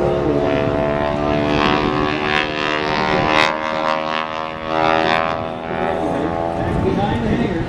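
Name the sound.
aerobatic airplane flying at an air show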